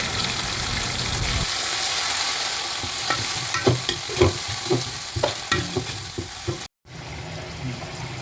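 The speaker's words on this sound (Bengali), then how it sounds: "প্রথমেই বাটা পেঁয়াজ দিয়ে দিলাম" Onion paste frying with spices in a pan for chicken korma, a steady hiss of hot oil with a run of quick rhythmic spatula scrapes and taps, close and fairly loud.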